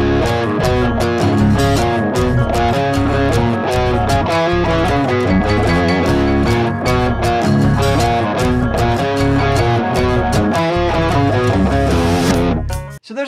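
Loud, punchy electric guitar in drop D through a Marshall amp with a touch of reverb, heavy chugging riffs driving steadily, then cut off abruptly at the end.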